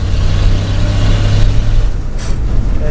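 1957 International truck engine working hard nearby, a deep rumbling drone that rises and shifts as the gears change, loud and continuous with no talking.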